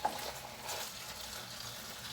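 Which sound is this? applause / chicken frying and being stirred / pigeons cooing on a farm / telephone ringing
chicken frying and being stirred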